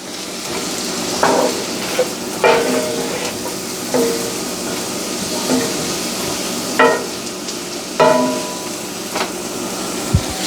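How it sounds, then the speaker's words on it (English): Vegetables cooking low and slow in butter in a pan for Southern cornbread dressing, with steady soft sizzling broken by occasional stirring scrapes and clinks, close up with no talking. "I'm just adding my vegetables. And I'm going to cook them low and slow."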